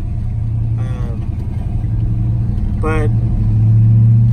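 1985 Chevrolet C10 short-wheelbase truck, dropped 4/6, engine rumbling at a low steady idle that builds slightly toward the end, with someone talking briefly over it twice.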